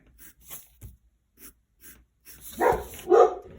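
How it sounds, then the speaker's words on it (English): Two short barks from dogs indoors ring out near the end, fairly loud and close, after a stretch of quiet scratching and light tapping from a pen moving across paper. "Oops, there's my dogs."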